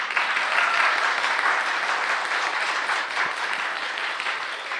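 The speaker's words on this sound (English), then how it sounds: "another applause again?" Sustained audience applause at a live event in The Hague, dense and steady clapping filling the room throughout, tapering slightly toward the end with no voices over it.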